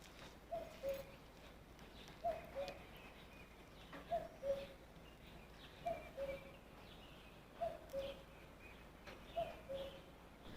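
A kukku chan (kuppu) bird perched in a walnut tree in Kinnaur repeats a faint two-note call about every one and a half to two seconds, set against quiet, distant background noise.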